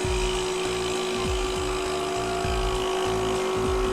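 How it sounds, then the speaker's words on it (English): STAUFF bottle sampler running under vacuum, a steady loud electric whine with a constant tone and a rhythmic pulsing throb underneath, heard alone without voices. "turn the bottle sampler on."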